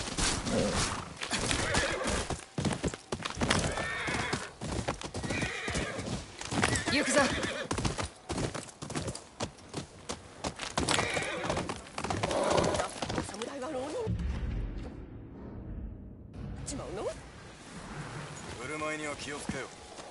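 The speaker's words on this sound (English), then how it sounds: "Am I allowed to ride my horse inside?" Horse sounds in the video game Ghost of Yotei: a whinny and steady clip-clopping hooves over busy background noise, briefly dropping away before resuming.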